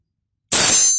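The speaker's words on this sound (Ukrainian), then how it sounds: "зараз покажу як цвях рубає, чи рубає, чи ні" An Intertool RT-1302 pneumatic chisel strikes a nail, a single loud sharp metallic clang with ringing decay after half a second of silence.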